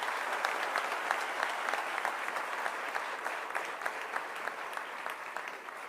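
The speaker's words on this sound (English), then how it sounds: "May we have another big round of applause for Mr." A college auditorium audience gives a sustained round of applause for Gautam Adani at a Teachers' Day talk, dense, even clapping from many hands at moderate distance, continuing without a break and easing slightly toward the end.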